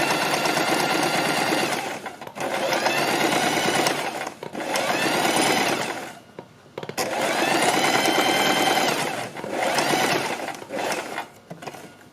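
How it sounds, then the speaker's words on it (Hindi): A sewing machine stitching along a crease in fabric, running in several loud, steady whirring bursts of about two seconds each, separated by short pauses. "सिलाई हमें इस क्रीज के ऊपर लगानी है।"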